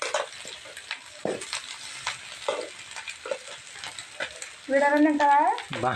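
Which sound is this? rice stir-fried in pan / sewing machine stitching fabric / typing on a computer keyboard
rice stir-fried in pan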